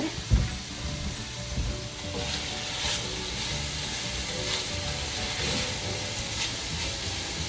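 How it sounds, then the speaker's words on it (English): Steady, loud sizzling of chicken cacciatore frying in a hot pan, a continuous crackling hiss with a few clatters near the start, no voices. "Sizzle, sizzle. You gotta just love that sound."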